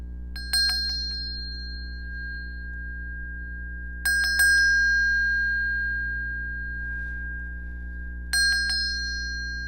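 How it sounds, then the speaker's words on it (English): A small bell rung three times at roughly four-second intervals, each strike a bright ringing ding that decays slowly, alone over a steady low hum. "I'll go ahead and ring the bell."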